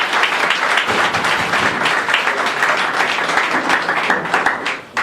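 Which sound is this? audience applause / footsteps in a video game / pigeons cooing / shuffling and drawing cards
audience applause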